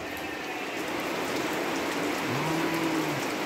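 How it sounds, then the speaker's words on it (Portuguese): Steady rain falls on a rural hillside where sheep graze, a dense even hiss throughout, with a short tonal call rising briefly near the end. "Tempo de chuva maravilhoso."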